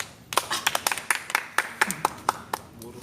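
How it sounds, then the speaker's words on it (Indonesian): A class claps for a student during an outdoor lesson, a short burst of scattered, uneven hand claps from a small group, fairly close, with brief talk underneath. "Kasih tepuk tangan dulu buat Ayin."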